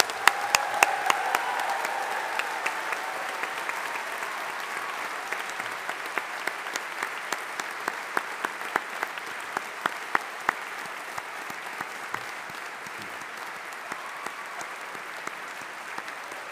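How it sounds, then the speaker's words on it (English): A hall full of people at a summer 2025 engineering graduation ceremony applauds the graduates with long, steady clapping, a broad even wash punctuated by crisp nearby claps that carries on for over fifteen seconds. "Let's give our summer graduates of 2025 a big round of applause."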